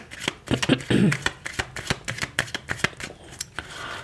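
A Lenormand deck of fortune-telling cards is shuffled by hand, a quick run of crisp riffling snaps and slaps close to the ear, with a brief louder flurry near the start.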